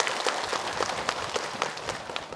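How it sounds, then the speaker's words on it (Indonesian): A studio audience at an Indonesian religious talk show claps in a dense, even patter of applause that holds steady and moderately loud for a couple of seconds. "Boleh tepuk tangan ibu bapak."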